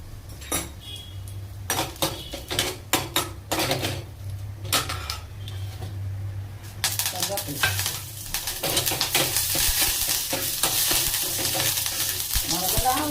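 Mustard seeds with cloves, cinnamon and star anise dropped into hot oil for a potato kurma, first clinks of a spoon against the pan, then a rising, continuous crackling sizzle and popping that grows loud and close.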